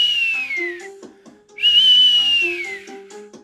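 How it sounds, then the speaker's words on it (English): A bright, sliding whistle sounds twice on a live trading stream, each long tone dipping slightly in pitch over a low tonal backdrop, loud and clear with no talk. "Bet you guys hate that little whistle."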